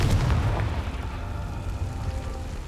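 A Confringo fire spell explodes in the game Hogwarts Legacy as a single loud, deep boom that quickly fades into a rumbling tail.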